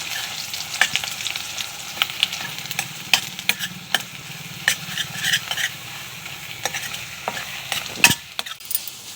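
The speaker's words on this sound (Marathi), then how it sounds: "आता आपण 2 मिनिटं तेलात मसाला परतून घेऊ।" Masala frying in oil while being stirred, for a curry of fresh cowpea beans: a soft bed of sizzle under frequent sharp, irregular spatula scrapes and knocks against the pan, close and fairly loud.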